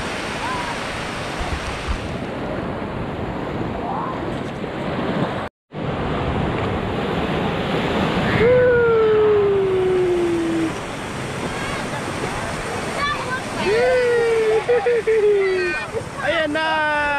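Sea waves break and wash onto a shallow beach in a continuous loud roar of surf with wind buffeting the microphone, while voices exclaim and talk over it.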